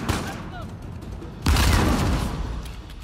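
Shotgun blasts in the Uncharted 4 video game, a loud burst of gunfire erupting halfway through amid ongoing game noise and faint chatter.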